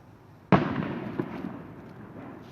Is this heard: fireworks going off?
yes